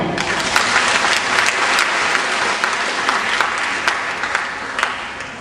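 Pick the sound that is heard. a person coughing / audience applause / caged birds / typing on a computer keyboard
audience applause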